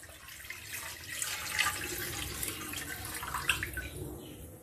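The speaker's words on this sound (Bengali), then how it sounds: "তাতে একটু জল দিয়ে দেব ভাপানোর জন্য" Water is poured into a wok set on a gas flame for steaming, a soft, close splashing trickle with small bright splashes and no talking.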